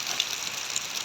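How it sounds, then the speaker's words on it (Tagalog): Heavy rain pouring outdoors in a field, a constant close hiss with scattered brighter drips and splashes standing out over the steady wash. "Oh, grabe ang ulan, oh."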